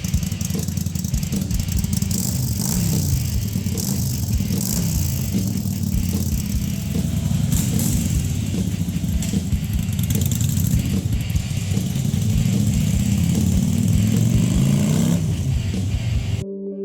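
An old, cheaply bought motorcycle that had not been running is taken for a test ride, its medium engine droning and revving steadily, close up, with road and wind noise and occasional squeals.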